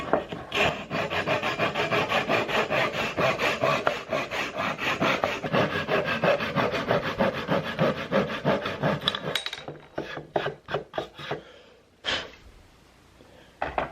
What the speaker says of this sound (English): Then you take your Japanese pool saw, from the back side.